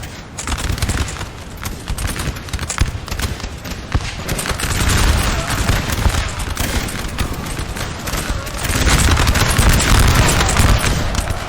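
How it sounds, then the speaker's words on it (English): Massed musket volleys crackle in the Napoleon Total War video game, dense rolling gunfire with booming reports that swell louder in waves, loud and continuous throughout. "Flash of the muskets and the fire."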